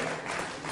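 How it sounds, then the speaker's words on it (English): A roomful of people clapping for a team during a personality-types workshop, a short, dense, even burst of applause heard at moderate level with no voices on top. "Give my team a round of applause."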